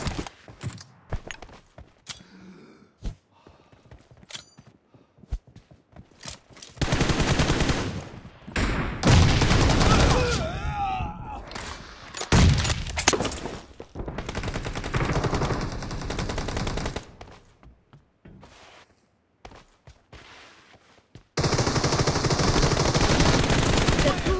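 Gunfire in the mobile battle royale game PUBG / BGMI: scattered single shots at first, then long loud bursts of automatic fire alternating with quieter gaps and footstep-like rustles, ending on a sustained barrage.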